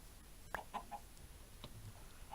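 Chickens in the Minecraft video game give a few short, faint clucks in a sparse, uneven pattern against a quiet background.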